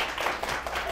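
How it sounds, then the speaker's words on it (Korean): Brief burst of audience clapping during a Korean-language teaching practicum lecture, a short dense patter at moderate loudness. "박수 쳐주세요."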